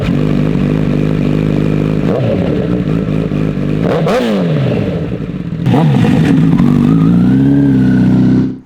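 A powerful motorcycle, capable of 0 to 60 in under three seconds, roars close and loud as it accelerates hard, its engine pitch climbing and dropping sharply through several gear shifts before rising again.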